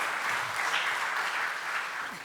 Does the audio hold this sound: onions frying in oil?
no